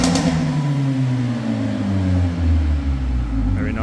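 A 360 bhp 2.0-litre Mercedes-Benz A45 AMG 4MATIC in sport mode gives a steady, loud, deep engine drone with rising and falling rev tones for a few seconds, close by and alone.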